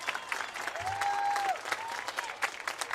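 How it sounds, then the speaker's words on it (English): Audience at a high school football game applauds band directors past and present, a broad steady wash of clapping from a crowd with a brief whistle or cheer rising over it, moderately distant across the stands. "Give a big round of applause for all of our head band directors,"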